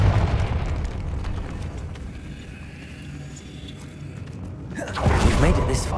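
Hogwarts Legacy gameplay: a low, rumbling ambience with faint clatter gives way near the end to the sudden burst of a Confringo fire spell explosion, a loud whooshing blast that swells and lingers.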